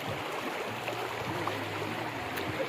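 Steady broadband rush of river water at Moola Chotok in the mountains, a continuous mid-distance flow with no break and a faint low hum underneath.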